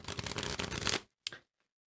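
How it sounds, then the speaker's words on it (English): Tarot cards riffle-shuffled in a quick burst of about a second, a dense papery flutter close up, followed by a brief tap of the deck, then silence. "let's shuffle these cards."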